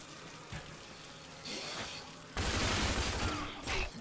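An Authority machine gun fires in the shooter Rage, with short bursts early on and then a loud, sustained volley of rapid shots near the end, dense and close.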